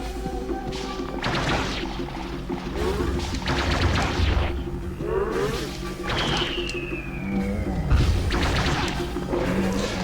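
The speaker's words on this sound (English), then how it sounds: "enemies appear from like fireworks" Repeated bursts of crackling firework explosions in the video game Blood Will Tell, loud thumping blasts and whooshes recurring every couple of seconds along with game sound effects, no talking.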